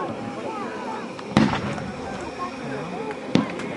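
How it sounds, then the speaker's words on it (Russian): Two sharp gunshots ring out about two seconds apart at a spring 1945 battle reenactment, over a steady murmur of outdoor crowd noise and distant chatter. "обратите внимание, разница между выстрелами от 10 секунд."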